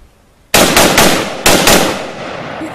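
Gunfire: two sharp, loud volleys of rapid shots close by, three quick reports then two more after a short pause, each ringing out into echo, with no talking.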